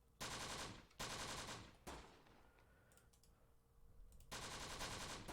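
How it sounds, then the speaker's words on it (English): Machine-gun bursts from Close Combat: The Bloody First, a WWII tactical war game: loud, dense sustained volleys in three bursts separated by quieter stretches of scattered distant fire, with no talking. "Yes, MG's opening up over there."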